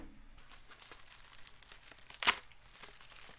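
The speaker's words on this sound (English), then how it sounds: "Let me just go ahead and get some scissors and be very careful with this tape." Scissors cut through packing tape on a parcel: faint close rustling, then one brief, crisp snip-rip that stands out in an otherwise quiet room.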